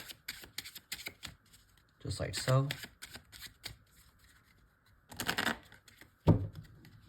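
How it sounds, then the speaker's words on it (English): A deck of playing cards being shuffled for a magic card trick, in two quick riffled bursts with a sharp snap at the end, between stretches of someone talking. "The cards can be shuffled"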